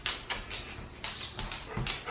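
A dog whimpering and yipping on an outdoor walk, several short high-pitched whines in quick bursts, fairly close and moderately loud.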